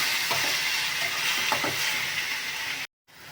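Pineapple sautéing in a pan for Kerala-style pachadi, a dense, even sizzle with a few faint stirring clicks, close and steady until it cuts out abruptly near the end.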